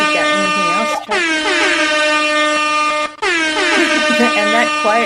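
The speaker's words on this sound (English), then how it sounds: "And that quiet air horn noise means..." Air horn sound effect blares in two long, loud, wavering blasts with rich stacked harmonics, separated by a brief gap.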